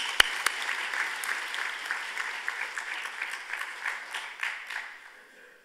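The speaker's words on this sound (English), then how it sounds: "warm round of applause" Applause from a conference plenary audience, a moderate, steady patter of many hands with a few sharper claps near the start, fading slightly toward the end.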